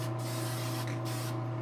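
A paint spray gun hisses steadily onto silly putty in a paint workshop, with a continuous even spray and a constant low mechanical hum beneath it.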